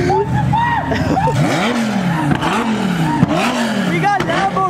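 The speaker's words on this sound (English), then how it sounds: "We got Lambo King shooting flames right here with all the cops." A Lamborghini at a Beverly Hills car meet revving loudly nearby, its engine note rising and falling in repeated surges as the exhaust pops, with people talking and shouting over it.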